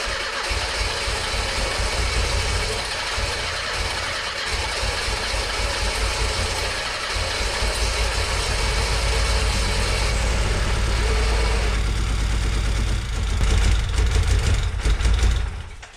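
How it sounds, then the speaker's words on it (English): A Peugeot 305 engine runs roughly on only a few cylinders, sounding loud, close and uneven, with a stuttering, machine-gun-like beat that continues for about sixteen seconds. "It sounded like a machine gun from World War I, and it kind of sounded like it was running on maybe 2-3 cylinders."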